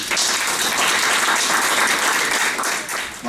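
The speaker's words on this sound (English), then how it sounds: "An applause for Mr. Joshua," An audience at a Tongan youth ministry gathering gives sustained, dense applause for a speaker, many hands clapping steadily and close, with faint voices underneath.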